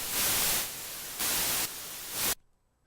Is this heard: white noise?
yes